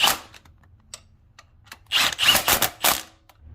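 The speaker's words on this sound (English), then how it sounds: "we're gonna be using a 15 mil socket with the extension and an impact" An impact wrench with a 15 mm socket and extension drives engine mount bolts on a Honda Pilot 3.5L V6, a few sharp isolated taps followed by a loud rapid hammering burst, close by.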